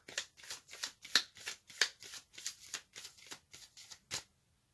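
Tarot cards shuffled by hand for a reading, a steady run of about a dozen crisp riffling bursts close up, fairly quiet, with no talking.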